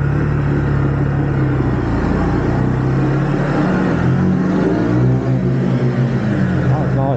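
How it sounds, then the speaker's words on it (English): Lexmoto ZSB 125cc motorbike engine droning and revving close by, a steady rumbling whir that swells midway, with people talking over it. "Sounds like a proper motorbike"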